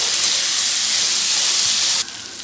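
Turmeric and red chili powder sizzle steadily and loudly in a hot pan for a Bengali vegetable dal, a dense continuous hiss that drops slightly in level near the end.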